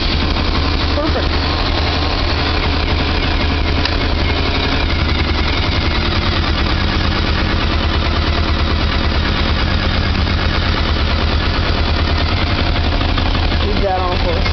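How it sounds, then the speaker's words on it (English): A Polaris four-wheeler engine idles steadily after a cold start with the choke partly on, a close, continuous low chugging rumble with faint background noise. "Well, let's do a cold start."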